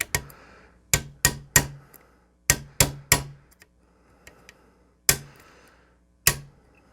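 Sharp metallic hammer blows drive a punch into the pin at the bottom of a Remington Sportsman 74 rifle's bolt carrier, coming as close strikes in quick clusters of two or three with short ringing decays and pauses between.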